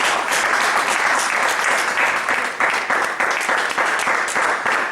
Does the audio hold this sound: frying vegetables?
no